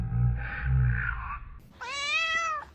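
A cat lets out a few drawn-out meows nearby, the last one higher and more insistent, with quiet room sound between.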